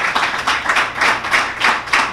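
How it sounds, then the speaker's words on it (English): A congregation claps for assistant ministers at a religious service, rhythmic bursts of hand claps rising and falling in waves, fairly close and loud with no talking. "Let us give our assistant ministers a round of applause."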